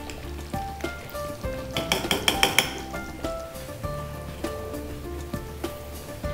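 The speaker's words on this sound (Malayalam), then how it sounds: "നമുക്കിതിലേക്ക് ശർക്കര ഒഴിച്ചു കൊടുക്കാം" Jaggery syrup is poured into boiling second-extract coconut milk in a pot for pineapple payasam: bubbling and sizzling, with a cluster of metallic clinks from the pot and ladle in the middle of the stretch.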